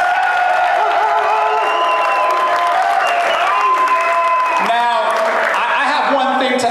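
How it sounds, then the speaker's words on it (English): An audience at a barbershop debate event breaks into a sustained round of applause, with clapping, cheering and raised voices mixed together throughout, loud and close. "all right, round of applause"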